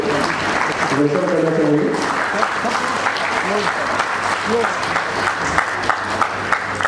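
An audience claps loudly at a book launch for a two-volume history book, a steady burst of applause from a crowd that continues under a speaking voice.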